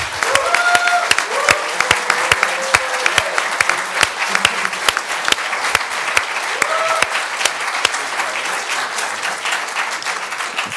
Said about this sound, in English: Just a big round of applause for